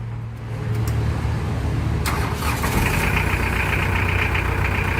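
A 4.3-litre lorry engine cranks briefly on a Nanexx NS40 12V 30Ah lithium battery, then catches and settles into a loud, steady, close-up idle with a rough mechanical rattle.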